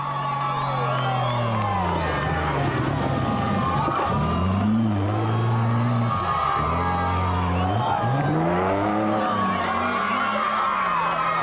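A Class D Chibuku Toyota Land Cruiser races in the 2003 Toyota 1000 rally, its engine note climbing and dropping through repeated revs and gear changes, with a cheering crowd and voices mixed in around it.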